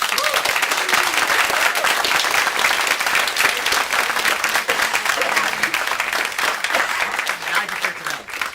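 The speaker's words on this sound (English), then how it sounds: "So I really appreciate if everybody could give them a round of applause." A crowd applauds steadily, a dense wash of clapping that holds at full strength for several seconds before easing slightly near the end.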